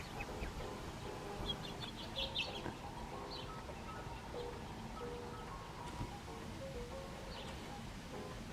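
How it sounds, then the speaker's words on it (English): Birds chirp and cluck intermittently outside a top-floor window, with several small, fairly distant calls scattered over a steady low background hum. "There were just birds hanging off of my window"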